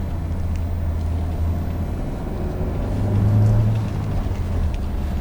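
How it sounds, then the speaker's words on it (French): A steady low engine rumble from a 2022 Renault Captur idles continuously, with a slight swell in the middle; moderate level, no talking. "le moteur il fait du bruit alors qu'il se passe rien"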